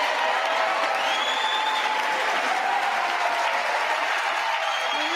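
Sustained audience applause in the chamber during the 2023 State of the Union address, a dense continuous roar of clapping throughout with a faint voice underneath.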